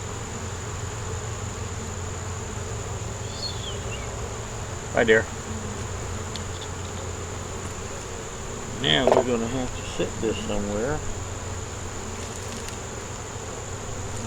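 Honey bees hum steadily around an open beehive in a dense, continuous close buzz, while a person speaks briefly and hive equipment is handled in short bumps.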